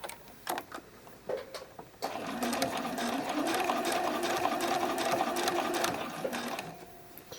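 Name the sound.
sewing machine sewing bralette cradles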